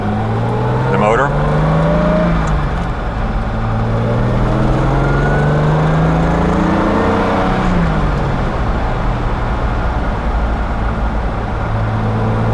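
A modified 1968 Jaguar XKE Series 1.5 roadster with upgraded cams and exhaust and a 4-speed gearbox pulls hard on the road, engine note rising and shifting in pitch, loud and close with someone talking over it.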